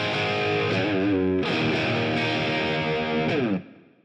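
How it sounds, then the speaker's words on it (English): A distorted bass guitar through an amp simulator plugin plays a steady line of sustained, gritty notes that stops abruptly near the end. "as you can hear, it's just a really great bass line"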